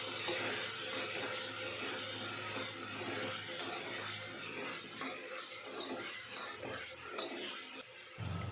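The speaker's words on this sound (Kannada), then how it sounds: "ಅವರೆಬೇಳೆನ ಸೌಟಲ್ಲಿ ತಿರುಗಿಸ್ತಾ ಫ್ರೈ ಮಾಡಬೇಕು" Field bean dal (avare bele) frying in a pan while a ladle stirs it, a quiet steady sizzle with soft irregular scraping that continues throughout, no talk.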